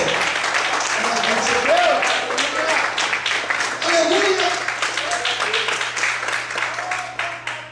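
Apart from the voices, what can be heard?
audience applauding in church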